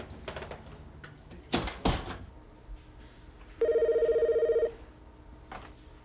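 An office telephone gives one clear, close electronic ring of about a second, after a couple of sharp knocks and handling sounds over a quiet room background.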